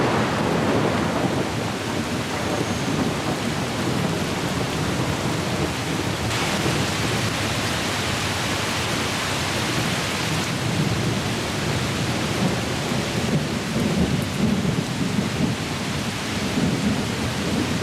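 Heavy rain pours down steadily in a wild savanna setting, a dense continuous hiss of drops with deep rolling thunder rumbling through the downpour, loud and unbroken throughout.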